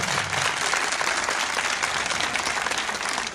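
Loud, dense applause from the audience at a live concert at the Datça Hızırşah event, steady clapping that fills the whole stretch with no break and only faint voices within it.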